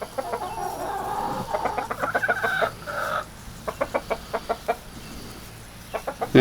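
Five hens cluck in short, rhythmic bursts close by, with an Easter Egger rooster present, a brief rising squawk partway through over a steady farmyard background.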